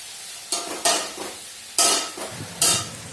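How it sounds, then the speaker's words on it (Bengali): Okra fries with onion in a pan, a soft close sizzle punctuated by several loud scraping stirs of a spatula, with no voices. "আর এখানে দেখো ভেন্ডি ভাজছি পেঁয়াজ দিয়ে"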